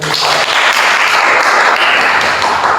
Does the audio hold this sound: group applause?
yes